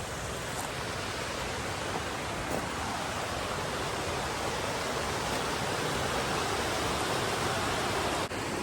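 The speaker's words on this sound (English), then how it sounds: "this creek comes down from up here and comes down like this" An alpine creek in the Eastern Sierra rushes in a constant, even wash of water noise, close and unbroken, with no voices.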